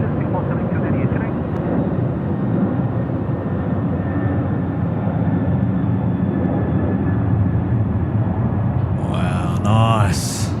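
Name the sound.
airplane at Sydney Airport at night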